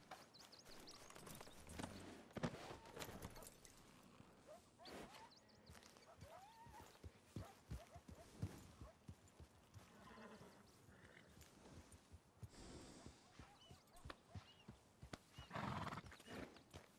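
A horse clip-clops and whinnies close by, with hooves thudding irregularly and a neigh rising over the hoofbeats while voices chatter at times.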